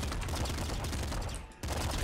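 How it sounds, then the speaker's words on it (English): Triple machine gun in Nuclear Throne, a dense, rapid fusillade of crackling shots that stops briefly and then resumes, loud and close, with no talking over it. "Triple machine gun could be pretty good."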